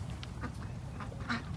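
Young Khaki Campbell ducks near a backyard pen give several short, quiet quacks scattered irregularly over faint steady background noise.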